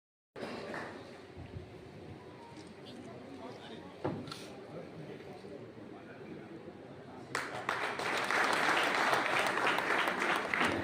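Audience at a police honour ceremony in Morena breaking into applause, scattered clapping under a speaker's voice that swells into loud, sustained clapping toward the end.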